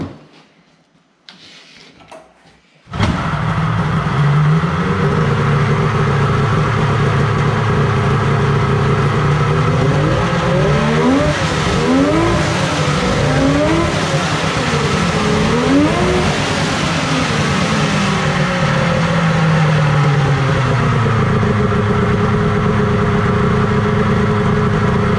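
A Polaris XLT 600 snowmobile fitted with a trash can exhaust starts after a few quiet seconds, then runs loud and close with a steady throaty idle and repeated revs rising and falling, with no talking.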